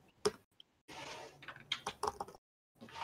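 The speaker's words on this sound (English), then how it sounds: "you're beating the crap out of that keyboard." Heavy, forceful typing on a computer keyboard, irregular bursts of loud clacking keystrokes separated by short pauses.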